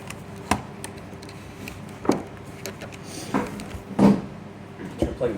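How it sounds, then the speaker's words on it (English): Keyboard cable plugs being pushed into different jacks on a 2006 Dell Dimension 1100 desktop computer, a handful of separate clicks and knocks spread out over a faint background hum. "Plugging in different jacks."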